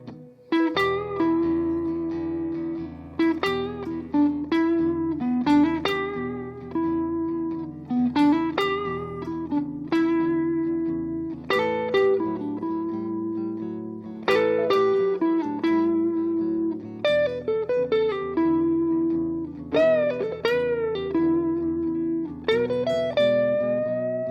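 Electric guitar plays a string of bluesy licks, bends and quick runs with sustained notes, clear and up close with no talking.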